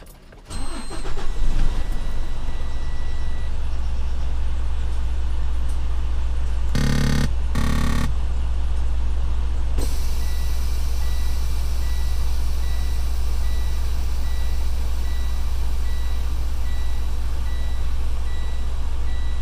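A vehicle reversing, its steady engine drone running throughout, with a few short backup beeps sounding partway through and a faint repeating alert tone continuing near the end; no voices.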